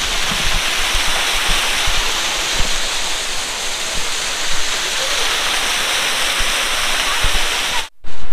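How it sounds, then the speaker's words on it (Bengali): A strong waterfall beside the Kedarnath pilgrimage trek route pours down in a loud, steady broadband roar that carries unbroken for about eight seconds before a brief cut. "জোরেই ঝর্ণাটা পড়ছে।"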